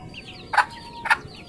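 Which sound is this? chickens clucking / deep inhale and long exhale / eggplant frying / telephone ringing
chickens clucking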